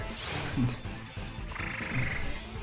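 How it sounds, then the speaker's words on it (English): Frog Pokémon croaking in Pokémon Sword, a couple of short low croaks at moderate level over steady game music and ambience. "That's the frog."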